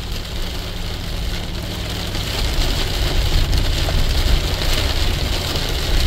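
Light rain falls around an off-grid cabin as a steady, soft hiss and patter that swells slightly midway, with no voices.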